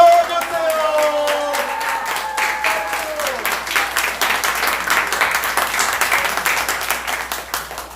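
A church youth group audience gives a teacher a warm round of applause, many hands clapping steadily throughout. A voice is speaking at the start under the clapping.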